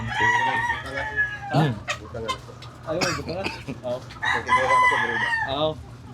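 Roosters crow and hens cluck on a layer poultry farm in Cordova, Cebu, several birds calling close by in overlapping bursts while people talk nearby throughout.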